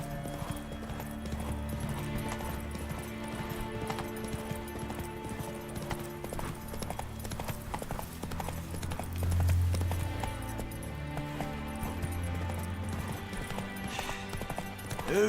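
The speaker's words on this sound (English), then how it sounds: "Whoa there, Roach" Hooves clip-clop steadily as a horse gallops in The Witcher 3 video game, a rhythmic run under game music with a whinny partway through.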